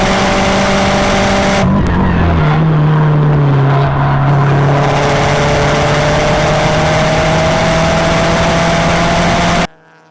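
Race cars run hard on a circuit with a 2006 Subaru Impreza leading, engines droning loud and close with steady tones, a brief shift in pitch early on, then sustained high-revving roar until an abrupt stop.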